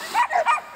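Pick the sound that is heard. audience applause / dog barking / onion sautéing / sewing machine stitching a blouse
dog barking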